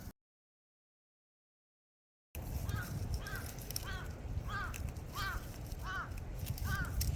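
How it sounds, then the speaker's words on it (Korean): A crow caws repeatedly outdoors in the countryside, about six harsh calls at a steady pace, moderately distant, over continuous wind-like background noise after a silent gap. "까마귀가 짖으면 재수 없다"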